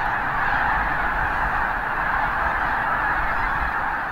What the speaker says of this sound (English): Hundreds of thousands of geese, swans, cranes, and ducks stop at the Klamath Marshes.